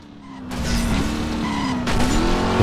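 A Camaro SS drifting in Driver San Francisco: a steady, loud engine drone with a sustained tire squeal that wavers in pitch as the car slides, continuous and close throughout.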